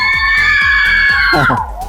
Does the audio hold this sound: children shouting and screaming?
yes